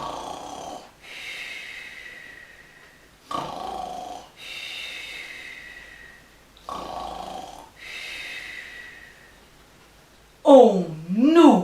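A storyteller's voice imitates Mrs. Bear snoring, giving four drawn-out, throaty snores in a steady rhythm, close and moderately loud. The series ends with a sharper, wavering snort-like burst.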